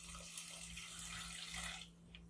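Spring water pours into a blender for a veggie shake, a soft steady splashing stream that tapers off near the end over a low electrical hum.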